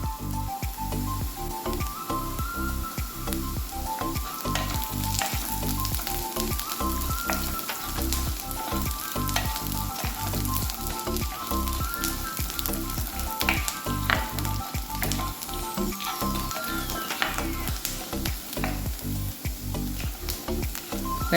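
Onions and curry leaves sauté in hot oil in a pan for sabudana upma, giving a loud, continuous close-up sizzle with frequent crackles and occasional stirring clatters.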